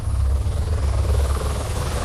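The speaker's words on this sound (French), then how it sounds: "L'hélico revient." A helicopter in Nepal comes back after the 2015 earthquake, its steady, heavy rotor thrum and engine roar filling the air loud and close, with no voices.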